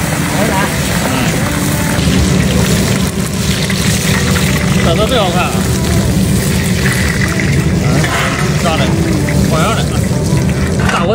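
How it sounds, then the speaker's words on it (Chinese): Red eggs deep-frying in hot oil in a large wok for a village-style big-pot stew: a loud, steady, bubbling roar of oil throughout, with people talking over it. "接着是红蛋啊，做油炸"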